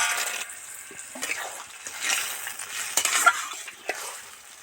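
Fried lentil dumplings (bori) are dropped into a pan and stirred for a traditional Bengali vegetarian thor bori khara, giving a soft, steady scraping and bubbling hiss with a few louder clinks near the end, with no voices.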